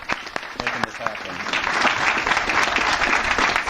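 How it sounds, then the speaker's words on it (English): A room of people at a ribbon-cutting event breaks into a round of applause for an event organizer, clapping building from scattered claps to a steady, dense wash, with some voices and murmurs mixed in. "can we give her a round of applause for making this happen?"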